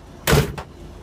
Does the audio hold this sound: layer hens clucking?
no